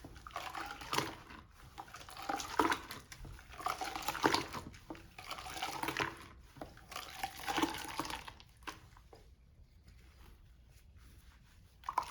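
Cold water sloshing and splashing in bursts as a hair lace closure is dipped and swished while rinsing, close by, with brief quiet pauses between splashes.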